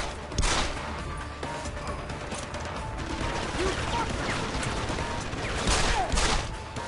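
Gunfire in the video game Deus Ex: Human Revolution, a few sharp shots spread over a busy game soundscape with a voice talking faintly underneath.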